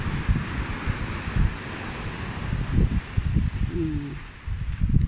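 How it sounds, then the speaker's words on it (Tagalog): Very big ocean waves with strong wind buffeting the microphone, a continuous rushing roar with surging swells and low gusty thumps; a brief faint voice-like tone appears partway through. "Napakalaking alon."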